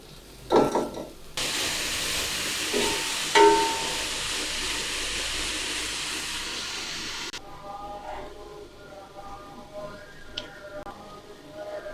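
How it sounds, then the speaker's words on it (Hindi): Onion goes into a hot pan of frying okra, setting off a loud broad sizzle that holds for several seconds and then settles into a quieter hiss with light clatter; no speech. "अब मैं इसमें डाल रहा हूँ मेरे पास जो प्याज था।"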